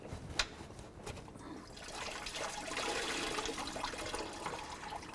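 Coolant running and trickling out of disconnected hoses on a 2004-08 Ford F-150 during water pump replacement, a steady close watery splashing that builds and holds, with no talking.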